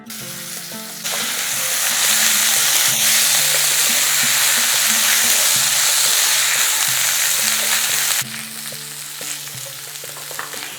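Soaked rice and lentils hit a hot pan and break into a loud, dense sizzle that holds steady for several seconds, then drops back to a quieter fry with light stirring clinks.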